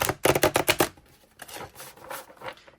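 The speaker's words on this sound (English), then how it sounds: "Now I'm going to shuffle." Thick cardstock Tempest Tarot mass market edition cards being shuffled: a rapid series of sharp, close card slaps up front, then softer scattered riffling and flicking, with no voice.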